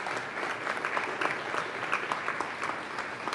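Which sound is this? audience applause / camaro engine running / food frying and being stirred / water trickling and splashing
audience applause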